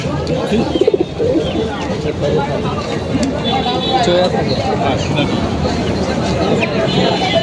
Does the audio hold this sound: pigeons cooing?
yes